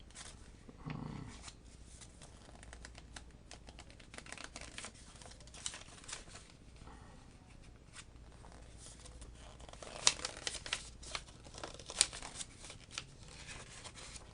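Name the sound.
paper crinkling, pages being turned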